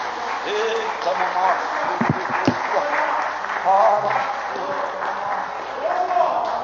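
A church congregation claps in praise during a worship service, rhythmic hand claps mixed with voices and singing, moderately loud and continuous.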